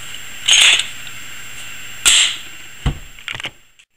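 Taurus 24/7 G2 pistol being put back together by hand: two sharp metallic clicks of parts seating, a brief knock, then a quick cluster of lighter snaps and rattles, close and alone with no talk.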